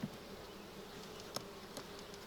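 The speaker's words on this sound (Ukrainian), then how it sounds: "видно, що бджілки працюють" Honey bees buzz in a steady, faint drone around hives at an apiary in July, with a couple of brief close passes over the hum.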